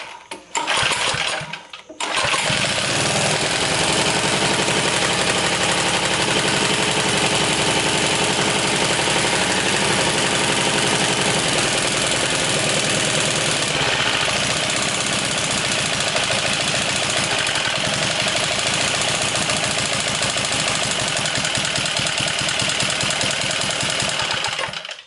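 A 1970s Sears generator's small gas engine sputters briefly and catches, then runs at a loud, steady, buzzing drone close by for over twenty seconds.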